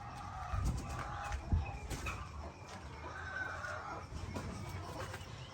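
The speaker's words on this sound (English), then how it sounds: "Here's the roosters." Chickens and roosters cluck and murmur steadily at a moderate distance on a small farm in Ghana, with scattered louder calls from the flock over a low, noisy background.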